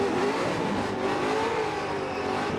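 A drift car doing a standstill burnout at the finish line of a drift event at Irwindale Speedway, California, a loud continuous engine roar with steady revving and tire noise, unbroken throughout.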